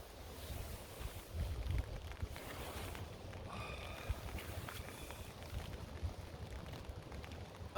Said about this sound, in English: it has been pouring with rain for quite a while now